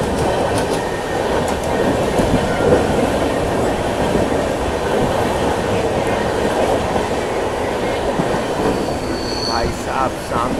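The 22946 Saurashtra Mail express runs along rails near Mumbai with a steady, loud rumble of wheels and car bodies, faint clatter and brief squeals over the continuous roar, heard from inside the train.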